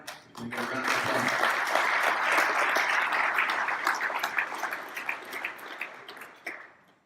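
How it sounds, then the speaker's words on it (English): Audience applause at a financial advisors' event thanking its sponsors, a dense wash of many hands clapping that swells quickly, holds steady for several seconds, then thins and fades; a voice briefly precedes it. "We get a round of applause."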